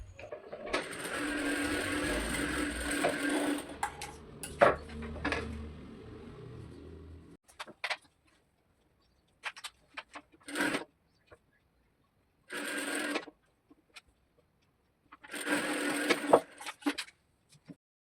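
A sewing machine stitches a baby bedsheet, a steady whirring run for several seconds, then short separate bursts after pauses, and a voice speaks briefly.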